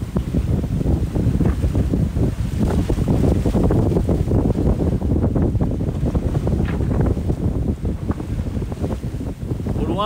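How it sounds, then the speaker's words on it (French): Strong wind buffeting the microphone aboard a racing sailboat on the open sea during the Vendée Globe 2024, with rushing, gusty roar and splashing water throughout. "Il y a un petit peu de vent."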